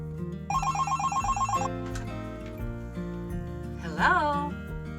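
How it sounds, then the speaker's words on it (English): A new off-grid home phone rings with a repeated electronic trill. It starts over steady background music, then a voice rises briefly near the end. "I'm calling you from our new phone."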